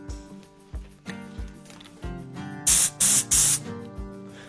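Compressed air from a garage workshop compressor line blasts out in three short, loud hissing bursts near the end, following a stretch of quieter knocks and background noise.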